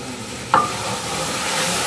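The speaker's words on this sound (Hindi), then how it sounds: "अच्छे तरीके मिक्स कर लेंगे, अच्छे तरीके भून लेंगे" Ground spices with salt, turmeric, coriander and red chilli are stirred and fried in a pan, giving a sharp scrape of the spoon followed by a continuous hiss of sizzling.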